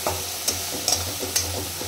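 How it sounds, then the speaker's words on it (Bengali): Spice paste frying in oil for a Bengali doi katla fish curry, a steady sizzle with a low hum beneath, broken by four or five sharp scraping clinks of the spoon as it is stirred. "এবার আমি মশলাটাকে ভাজবো ভালো করে মশলাটাকে ভেজে নেব।"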